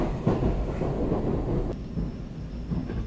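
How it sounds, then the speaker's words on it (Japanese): A Tokaido Shinkansen Nozomi bullet train rumbles and clatters steadily as it rolls into Shinagawa station, with a brief sharp click partway through and no voices. "列車品川に到着です"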